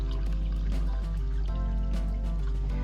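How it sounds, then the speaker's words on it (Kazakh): Water pours steadily into a container, a continuous liquid trickle over a low hum, close by and moderately loud. "Мінекей осылай құйып алдық суымызды."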